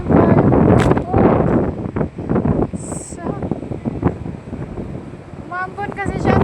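Strong wind buffets the microphone with a steady low roar, while a person talks loudly over it throughout.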